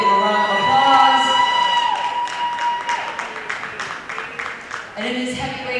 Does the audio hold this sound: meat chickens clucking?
no